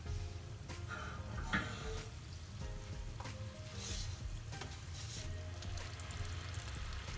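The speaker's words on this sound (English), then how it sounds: "Now these are being fried at a higher temperature, and that's what is required for them to get nice and crispy." Potato and pea samosas deep-fry in hot oil at high temperature, a dense continuous sizzle and bubbling crackle close by, steady throughout with a few sharper pops and clinks.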